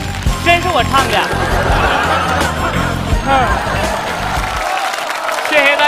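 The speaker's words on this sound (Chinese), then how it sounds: "感谢大家雷鸣般的掌声啊" A live audience claps and cheers at a Chinese comedy stage show after a performer finishes singing, dense steady applause with music and a voice mixed in, fading out near the end.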